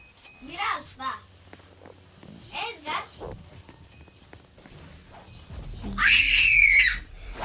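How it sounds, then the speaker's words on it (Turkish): A child's loud scream rises near the end in a Roblox game scene, preceded by excited voices and scattered thuds. "Ne bağırıyorsun mal?"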